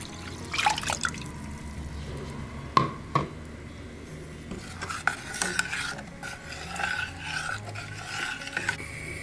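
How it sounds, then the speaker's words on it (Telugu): Chickpea flour and water being stirred in a pan make repeated scraping, rasping strokes of a spoon against the pan bottom, close and fairly quiet, with small wet drips and a faint simmer underneath. "ఇలా తిప్పుకుంటూ చిక్కబడివ్వాలి."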